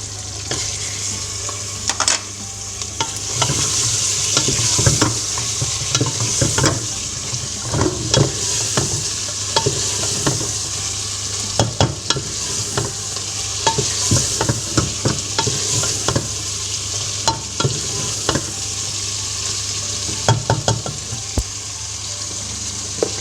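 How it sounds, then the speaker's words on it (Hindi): Pieces of gosht tipped into a hot pan and stirred as they fry, a close, continuous sizzle punctuated by frequent sharp scrapes and clatters of the spoon over more than twenty seconds, with no voices. "अब इसमें गोश्त डालते हैं।"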